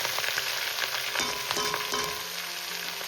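Greens fry in a pan with garlic, a steady close sizzle with sharp crackles and a few stirring scrapes, no voices.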